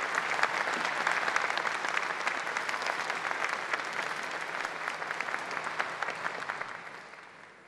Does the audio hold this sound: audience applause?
yes